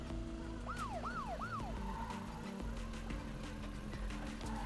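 A police siren in the parking game You Suck at Parking, three quick rising-and-falling wails over a steady electronic music backdrop, fairly quiet in the mix, with no voices.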